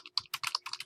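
Fingers tapping out a message on a computer keyboard, short clustered bursts of crisp, close key clicks in an uneven rhythm with brief pauses between.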